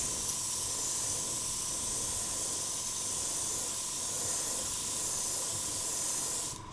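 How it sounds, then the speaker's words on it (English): An airbrush sprays paint onto a wooden fish-shoal wall hanging, a steady close hiss of air and atomised paint running unbroken for several seconds before cutting off at the end. "A little bit of airbrush control now."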